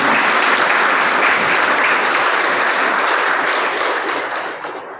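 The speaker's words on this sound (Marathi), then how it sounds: "त्यासाठी एकदा जोरदार टाळ्या." A school parents' meeting audience applauds loudly and steadily for several seconds, with the clapping thinning slightly right at the end.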